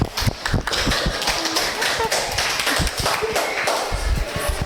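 A classroom of students claps for a classmate, a dense, steady patter of many hands that continues for several seconds, close and fairly loud.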